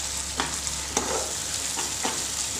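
A spice mixture with tomato sauce sizzles in a pan while a spoon stirs it in several scraping strokes, close and steady with no talk.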